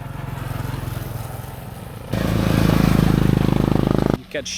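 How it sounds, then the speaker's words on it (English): A motorbike engine drones nearby, then grows louder and rougher as it passes close, before cutting off abruptly. "Of course there is a motorbike."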